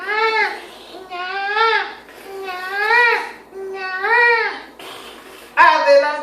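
An adult voice imitates a crying baby with four drawn-out, wavering wails separated by short pauses, loud and close, and a final sharper cry at the end.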